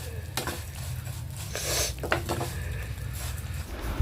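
Vermicelli deep-frying in ghee in a pan, a steady sizzle with scraping stirs and light clinks of a utensil against the pan.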